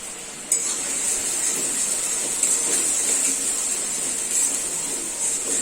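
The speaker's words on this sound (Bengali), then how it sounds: "2 মিনিটের মতো মশলাটাকে একটু কষিয়ে নেব" Ground turmeric, salt and spices frying in a pan for paneer Manchurian, a steady soft sizzle with faint stirring scrapes and a light clink near the start, alone and even throughout.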